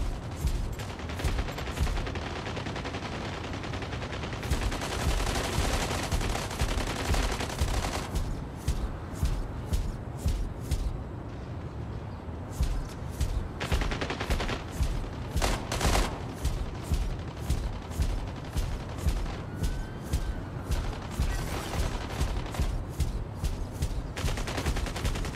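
Mech Arena combat gunfire rattles in dense rapid bursts of automatic shots, with long sustained volleys broken by short pauses and a few isolated reports, loud and continuous with no talking.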